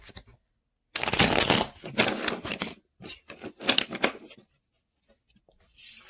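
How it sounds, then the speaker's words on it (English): Tarot cards being shuffled by hand, with bursts of riffling and brisk papery slaps in several bouts, close and fairly loud, separated by short pauses. "I want to get a good shuffle because I just did Cancer Divine Masculine."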